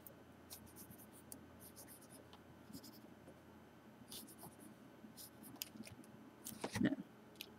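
A pencil sketches an isometric drawing on paper, with light, quick scratchy strokes in short bursts up close and a louder scrape near the end, over a faint background murmur.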